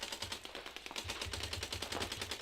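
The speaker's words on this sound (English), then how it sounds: "So he's upset about getting overshot, but Henry's just trying to shoot his teammate behind him." Paintball markers firing in rapid bursts during a 3-on-3 Xball tournament match, quick rattling volleys from several guns overlapping at moderate distance, no voices.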